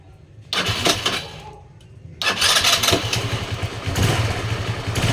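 A Kymco Super 8 scooter under semi-restoration cranks in a short starter burst, pauses, then cranks again and catches, settling into a close, steady idle.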